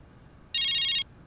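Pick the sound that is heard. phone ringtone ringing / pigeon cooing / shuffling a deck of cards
phone ringtone ringing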